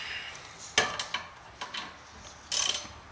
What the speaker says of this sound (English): Now we'll just take the bottom bolt for that bottom sliding pin there too.